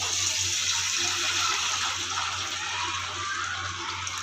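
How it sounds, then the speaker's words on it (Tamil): Water pouring steadily into a pan while sweet semiya cooks, a continuous close splashing rush that lasts the whole time with a low hum beneath. "இப்போ நம்ம வந்து தண்ணி ஊற்றிக்கலாம்"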